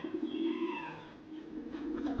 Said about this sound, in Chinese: 贝弗尔的这只鸽子是撞伤了才迟归的